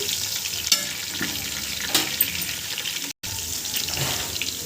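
Quartered tomato pieces frying in a hot pan, a dense, continuous hiss of sizzling oil up close with a few sharper crackles and one brief gap of silence.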